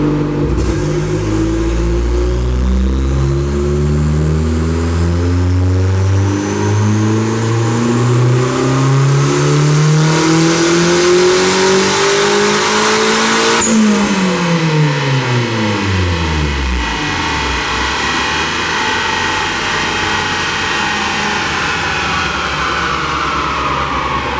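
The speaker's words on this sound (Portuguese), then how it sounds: "o vídeo para o pessoal ver da cinta estourando e nada acontecendo com o carro" Car on a dynamometer revving hard as the drive belt bursts, engine climbing steadily through rising harmonics, then a sudden break and the revs falling away, loud and close with no talk.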